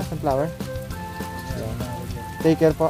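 Rain falls steadily on a surface at a farm park, a constant soft patter beneath nearby voices talking throughout.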